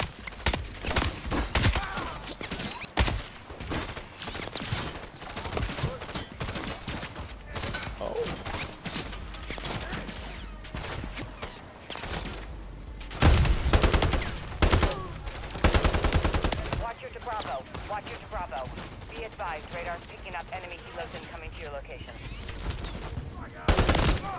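Heavy gunfire in Call of Duty Modern Warfare 3, rapid machine-gun bursts and sharp single shots crackling in dense volleys, loud and near, with short lulls and clattering mechanical sounds between bursts.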